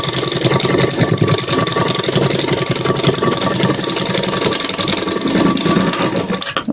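A sewing machine stitching blouse fabric hums and chatters in a fast, even mechanical rhythm, loud and close, running without pause and with no talk over it.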